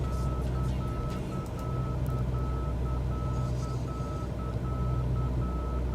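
Inside a Cessna 172 cockpit, a steady, evenly pulsed electronic beeping repeats as a minimums alert over loud, constant engine drone and cabin noise.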